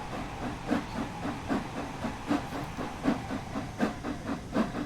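Flying Scotsman steam locomotive in Train Sim World 4, hissing steadily as the regulator opens, with soft rhythmic chuffs pulsing about twice a second and no talk.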